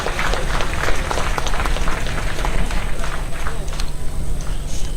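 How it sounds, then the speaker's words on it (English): A conference audience gives sustained applause, dense, steady clapping from a large crowd filling the hall for several seconds with a faint voice underneath. "Let's give them a more round of applause"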